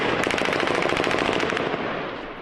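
Rapid automatic rifle fire from the war in Ukraine, a loud, close, unbroken string of shots for about two seconds before it trails off, with no voices.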